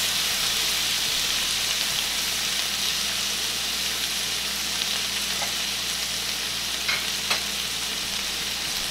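Italian sausage sizzling in a pan, a steady dense crackle and hiss close up, with occasional sharper pops and no talking.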